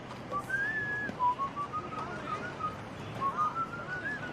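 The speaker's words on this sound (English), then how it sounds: "That whistling. It's annoying." Someone whistles a wandering melody in clear, sustained notes with pauses between phrases, set against a faint room background.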